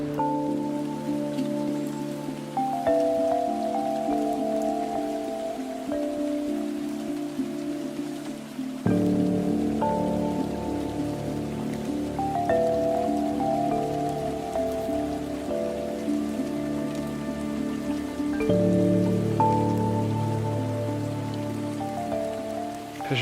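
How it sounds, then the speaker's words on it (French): Steady rain falls on a short forest hike in Québec, a continuous soft hiss running the whole time under a layer of sustained tonal chords that shift every several seconds. "Je crois que pour cette aventure, la pluie elle va nous accompagner jusqu'au bout"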